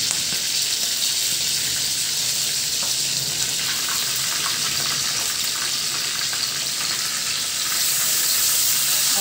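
Tuna pieces fry in hot oil with a steady, loud, bright sizzle that holds evenly throughout, a continuous crackling hiss with no talking over it.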